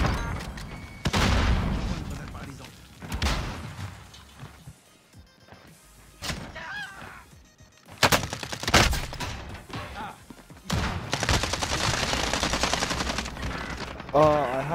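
Rapid automatic gunfire from an online shooter game, with sustained bursts, single shots and sharp booms at varied distances, while players talk over the shooting throughout.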